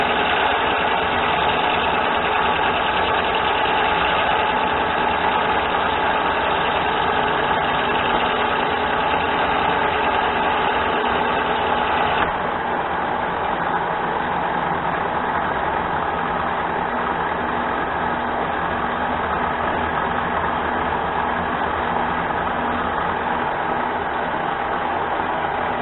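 A car engine idles steadily at about 600 RPM, a loud continuous rumble with no voices, its tone shifting slightly about halfway through.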